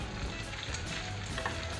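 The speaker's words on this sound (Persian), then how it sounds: "مرغی که آماده کردم رو میریزم روی پیازا، یه مقدار تفتشون میدم" Chicken and onions sauté in a hot pan for a Persian chicken and eggplant tahchin, giving a steady, close sizzle and fry that holds evenly throughout with no talking.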